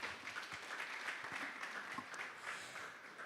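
A hall audience at the Articulate 2026 event gives a round of applause welcoming the arriving MD and CEO of Afia TV: quiet, continuous clapping from a crowd, steady and fairly distant for the whole stretch.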